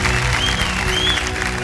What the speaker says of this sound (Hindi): बधाई आपको, जोरदार तालियां बज जाए इनके लिए।